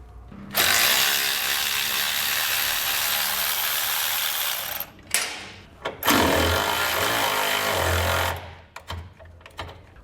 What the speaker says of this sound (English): We'll need to take a 13mm socket and remove the bolt holding on our brake line bracket